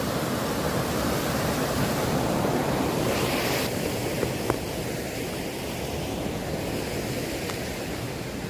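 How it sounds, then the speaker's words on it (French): A turbulent, fast-flowing river rushes in a steady, loud, unbroken roar close by, with no voices over it. "Ah voilà la rivière, vous voyez."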